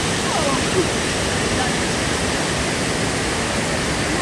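Heavy rushing water from a strong waterfall at Bride's Pool, a steady loud broadband roar that runs unbroken through the whole stretch and covers everything else.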